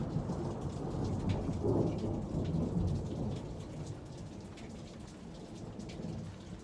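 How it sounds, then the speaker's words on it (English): Steady heavy rain patters on surfaces while a low rumble of thunder rolls underneath, a dense, constant wash of noise with no voices. "Stop it, thunder."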